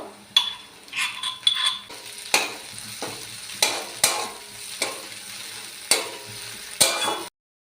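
Ground garlic and Kashmiri chilli paste frying in a pan for desi tadka Maggi: a low sizzle under a series of sharp spoon taps and scrapes against the pan, roughly one every second, close and clear.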